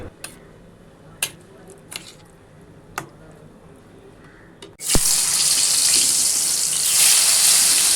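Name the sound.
potatoes frying in a pan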